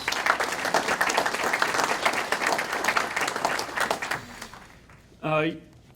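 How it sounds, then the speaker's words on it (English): A hall of fame audience at a county sports induction evening applauds loudly and continuously, the clapping thinning and fading toward the end before a single voice speaks briefly. "So I think we should give Jerry a round of applause"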